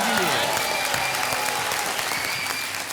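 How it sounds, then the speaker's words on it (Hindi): Dense studio-audience applause on a television game show, loud and continuous for a few seconds, with faint voices mixed into the clapping. "तालियां मनप्रीत चड्ढा जी के लिए।"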